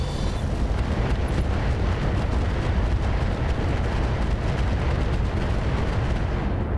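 Explosion in the mech combat game RogueTech, a BattleTech mod, with a Gauss rifle destroyed: a dense, continuous rumbling roar of booming bursts that stays loud and steady, with no speech.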